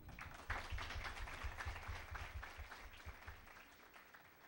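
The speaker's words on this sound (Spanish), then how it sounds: "para la cual pido un fuerte aplauso" Audience applause at a university psychology panel session, a faint, distant patter of many hands clapping steadily and slowly fading.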